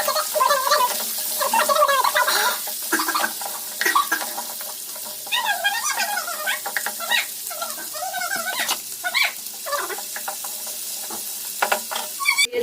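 Chopped onion, green chilli, garlic and ginger fry in hot oil, a steady bright sizzle with crackling pops running throughout, close and fairly loud, with clattering of a spoon stirring now and then.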